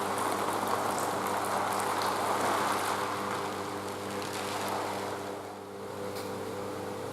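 A stage rain effect pours down in a dense, even hiss with a low rumbling hum underneath, loud and close throughout without any talking.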